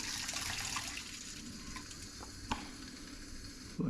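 Tap water runs steadily into a bowl to soak rice for chicken biryani, a close, even rush with a few small splashes and knocks.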